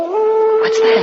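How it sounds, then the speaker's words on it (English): A dog howls outside at night: one long, steady, drawn-out howl that holds its pitch, while a voice speaks over it. "Oh, that was just a dog"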